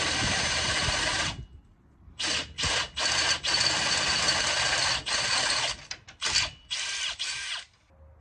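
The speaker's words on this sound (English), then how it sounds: "take the 4mm bit out of the drill and chuck in the 13mm bit" A power drill fitted with a 13mm bit bores into a gate while installing a Lokklatch Deluxe, whirring loudly in close bursts of varying length separated by short pauses, with no talking.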